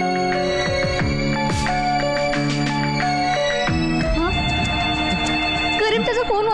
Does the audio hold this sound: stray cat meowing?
no